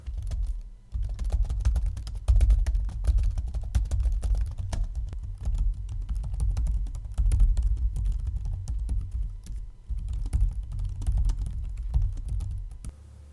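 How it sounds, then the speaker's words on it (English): Continuous typing on a Microsoft Surface Pro 4 Type Cover keyboard: rapid, dense, fairly soft keystrokes clatter steadily for over thirteen seconds, close up and with no voices. "As you can see with the Surface Pro 4 type cover, the keys have gotten a lot quieter to use"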